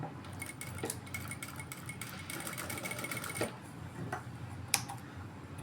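A sewing machine stitches blouse fabric to make a decorative flower detail, giving a fast, steady mechanical whir with light ticking and clicks. It runs close and continuous, with nobody talking over it.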